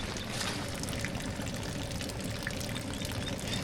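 Rainwater pours steadily out of a van roof during a heavy rainstorm, a continuous close splashing stream with no voices over it.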